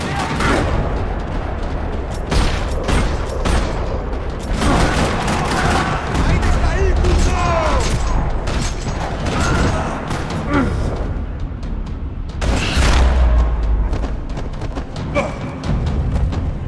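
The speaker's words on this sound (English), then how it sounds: "Another parking lot rattling with gunfire." Gunfire rattles across a parking lot in dense, overlapping bursts that stay loud and continuous throughout, with voices faintly mixed in.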